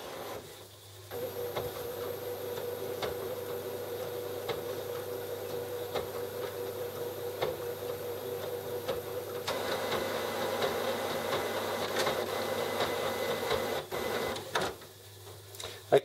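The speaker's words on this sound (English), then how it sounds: "Yeah, it's still preparing the ink system. I know it does its nozzle checks and cleans and that." An Epson WF-7210DTW printer prepares its ink system with a continuous mechanical whir and hum, broken by faint ticks and small clicks, growing slightly louder midway and ending on a sharp click.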